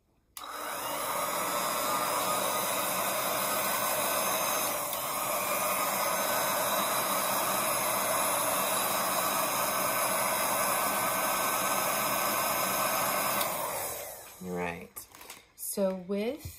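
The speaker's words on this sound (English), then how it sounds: "I'm gonna dry this off with my heat gun again." A heat gun blows a loud, steady hissing roar while drying paint on a monogram pallet sign, running continuously for about thirteen seconds before cutting off into a few scattered clatters.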